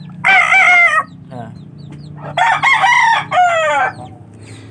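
Rooster crowing in two loud, close calls a couple of seconds apart, with a short spoken interjection between them.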